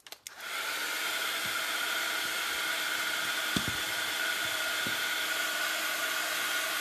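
Hair dryer drying a rust paint effect on a mixed media treasure box, a loud continuous blowing whir starting abruptly and holding steady, with a few faint knocks.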